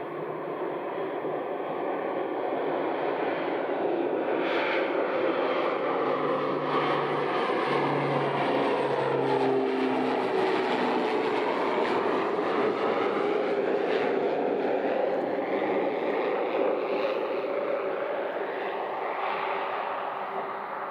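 An aircraft rolls down the runway at Leeds Bradford airport in heavy rain, its engine a steady loud roar with a rising whine, sustained throughout without speech.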